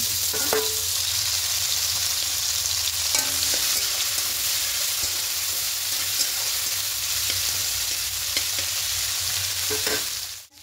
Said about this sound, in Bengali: এবার এদিকে তেলটা গরম হয়ে গেলে চিংড়ি মাছগুলো দিয়ে দেবো।